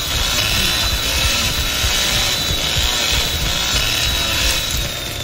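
A chainsaw runs continuously as a loud, steady buzzing whine held at close range for the whole stretch, with no talk over it.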